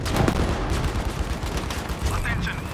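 Rapid bursts of gunfire from a Battlefield V match, dense and loud throughout with overlapping shots and battlefield noise, while a player talks over the action.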